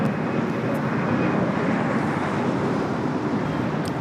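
Cessna Citation jet taking off at LAX, heard as a constant, loud broadband engine roar mixed with wind buffeting on the microphone, steady throughout with no talk.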